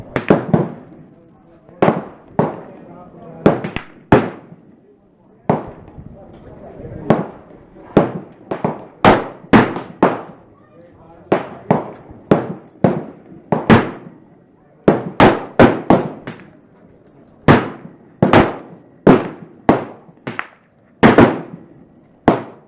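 Rapid pistol shots from a Glock 30 fitted with a Storm Lake 10mm conversion barrel ring out in loud sharp bursts, fired in quick irregular strings with short pauses between groups.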